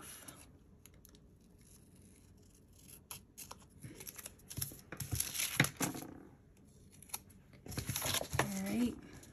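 Scissors snip through a planner sticker sheet in a quiet room, with several close cuts and crinkling, rustling paper that builds toward the end. A faint voice murmurs at times.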